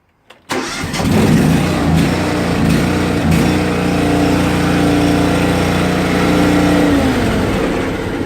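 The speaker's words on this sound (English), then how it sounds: "Yep, that's a gas engine." A Simplicity Legacy XL lawn tractor's gas engine cranks and catches, then runs steadily at a loud, close, even idle with a faint rev near the end.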